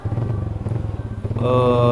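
An adventure trail motorcycle on a muddy track throbs with a close, pulsing engine note that rises to a higher, steadier rev near the end, loud and alone without talk.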